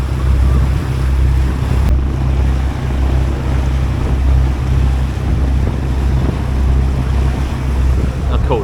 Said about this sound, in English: Apologies if there is any wind noise